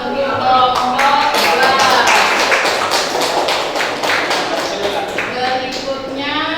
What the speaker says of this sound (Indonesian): Di aplaus untuk kelompok